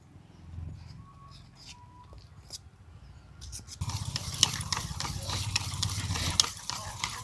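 Pitha batter for a spicy winter vegetable patishapta is whisked in a bowl: light clinks and taps at first, then fast, rhythmic beating strokes that grow louder and denser.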